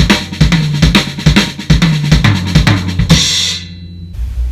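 A drum kit plays a fast right-left-left-kick phrase, repeated strokes in a steady driving rhythm with low kick thumps under sharp hits, ending on a crash or cymbal wash that rings out briefly before near silence.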